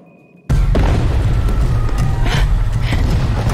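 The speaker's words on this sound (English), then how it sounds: "I thought it was an explosion." A trap explodes in Shadow of the Tomb Raider: a sudden loud boom after a brief quiet moment, followed by a sustained heavy roar and rumbling debris that stays loud to the end.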